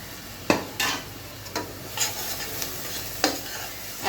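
Half-fried chopped onions sizzle in a pan and are stirred with a utensil, giving repeated scraping strokes over a steady, close frying hiss.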